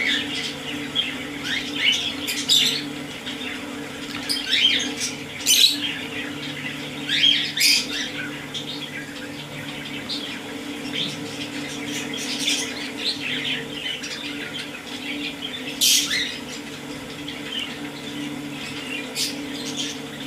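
Lovebird chicks, including a red-eyed exhibition chick, are hand-fed at a Korangi bird market. Many small birds squawk and chirp in short bursts over a steady hum and background chatter of birds, with no talk.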